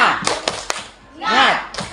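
An audience of teachers at a training session performs a rhythmic clapping chant, sharp claps in a steady pattern, close and loud, with voices chanting between the clap bursts.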